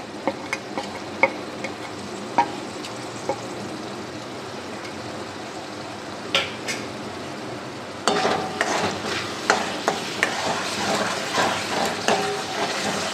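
Turmeric, cumin and coriander powders fry in a pan for an omelette curry, a steady sizzle broken by scattered clinks and scrapes of a stirring spoon that grow louder and busier in the second half.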